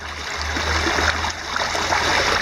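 Very shallow stream water, only a few inches deep, flows steadily along a precast concrete channel with brick sides, giving a constant, close, hissing wash with a low rumble underneath.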